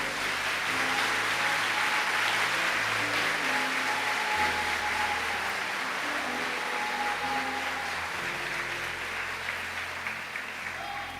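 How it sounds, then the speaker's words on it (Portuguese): A church congregation claps continuously in a sustained, even round of applause, with soft sustained keyboard or organ notes playing underneath. "Pode aplaudir Jesus, tá?"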